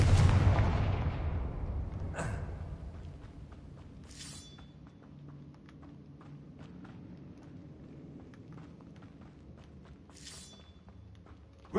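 A Confringo fire spell blasts in Hogwarts Legacy inside a big cave, opening with a heavy booming burst that fades over the first seconds, followed by a few sharp crackling impacts over a low rumbling ambience.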